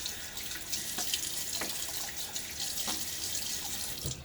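Water runs steadily from a sink tap while handfuls are splashed onto a face before a wet shave, with a constant hiss broken by a few soft splashes and drips.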